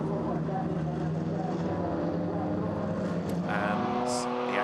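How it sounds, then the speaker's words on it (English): A GT4 race car accelerates out of the Variante Ascari chicane at Monza during a GT4 European Series race. Its engine drones loud and steady, rising in pitch, while a commentator talks over it. "And he accelerates out of the Variante Ascari."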